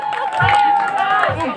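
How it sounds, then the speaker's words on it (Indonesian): Crowd noise with cheering and clapping at a rural tarkam volleyball match, loud and continuous, with a steady tone and low thumps mixed in over the short burst. "Ya, tepuk tangan."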